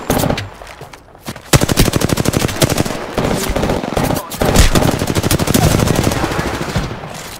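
Rapid automatic gunfire in Apex Legends rattles in dense bursts, loud and close, briefly dropping away before resuming in long sustained volleys.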